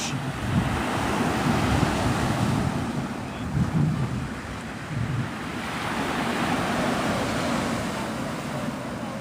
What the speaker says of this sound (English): This is Pensacola Beach.